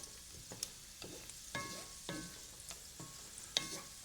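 Cashews fry quietly in hot oil in a pan, a soft steady sizzle broken by periodic stirring scrapes and light clicks, heard up close with no talking.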